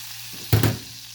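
Flour cooking in melted butter in a pan over a low flame, a steady soft sizzle with one brief louder stir or scrape in the middle.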